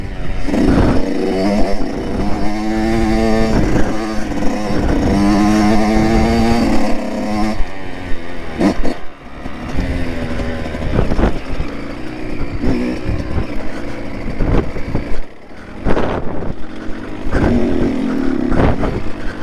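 A motocross bike engine revs and drones up close on a mountain trail ride, pitch rising and falling with throttle changes, occasional sharp blips and a steady rough idle-like growl throughout.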